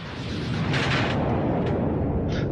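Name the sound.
floating mine exploding in a film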